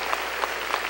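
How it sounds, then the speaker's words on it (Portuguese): Congregation in a church applauding briefly, a soft steady patter of many hands with a few louder claps standing out, no voices. "Uma salva de palmas ao nosso Deus"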